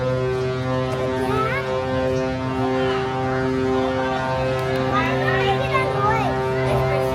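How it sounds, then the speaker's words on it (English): Ship's deep, sustained horn blast in Savannah, Georgia, a steady low drone running throughout beneath children's voices and chatter nearby. "That ship blowing that horn was cute at first"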